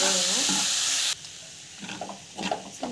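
Onions sautéing in a pan for avalakki upma give a steady sizzle that drops abruptly to a quieter fry about a second in, with a few soft stirring scrapes and clinks following.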